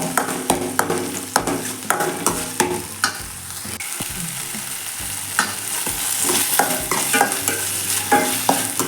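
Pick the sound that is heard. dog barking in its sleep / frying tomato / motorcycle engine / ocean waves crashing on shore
frying tomato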